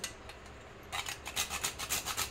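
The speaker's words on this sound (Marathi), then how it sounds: "थोडंसं जायफळ टाकूया किसून" Whole nutmeg rubbed against a grater over a pot of basundi, a close series of quick dry rasping strokes that grow steady and rhythmic after a brief pause.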